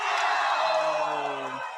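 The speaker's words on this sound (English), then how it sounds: "Both fans were cheering that time." Crowd cheering and whooping at an NCAA men's volleyball match between BYU and UC Merced, a loud sustained roar of fans right after a near solo block, with a few raised shouts rising above it.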